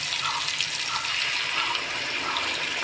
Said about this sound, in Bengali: আর এই দেখুন এবার দিয়ে দেবো গুড় জলগুলো।